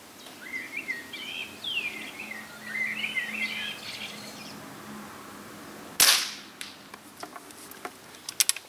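Weihrauch HW77 air rifle shooting outdoors at a 100-metre target: a single sharp crack midway, followed by faint clicks, with birdsong chirping in the background beforehand.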